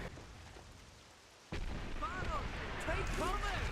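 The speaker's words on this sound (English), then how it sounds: "I have to call in the artillery strikes" Artillery strikes in Call of Duty 3 on the Wii, a sudden heavy boom that breaks in midway and then a sustained roar of blasts and battle noise, with voices shouting beneath.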